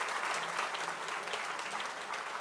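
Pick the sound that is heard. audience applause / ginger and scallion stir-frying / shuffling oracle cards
audience applause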